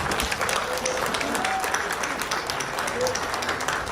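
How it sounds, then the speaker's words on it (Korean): Crowd applause at a civic groups' New Year gathering, continuous and fairly dense clapping from a room of attendees throughout. "박수를"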